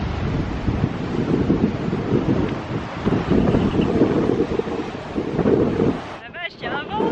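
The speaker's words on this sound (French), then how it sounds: "La vache, il y a un vent." Strong coastal wind at Hell's Gate near Noosa Heads, Australia, roars continuously into the microphone with a dense, gusting rumble, and a brief voice comes through near the end.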